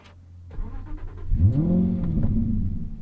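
A 2014 Aston Martin V8 Vantage engine cranks and fires up close by, its deep rumble rising sharply and then settling into a steady idle.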